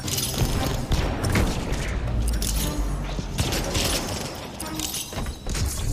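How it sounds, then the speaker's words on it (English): Grenades go off one after another in a first-person video game, a dense, loud stretch of booms and crackling blasts with barely any gaps. "I'm just gonna keep spamming grenades until I figure this one out."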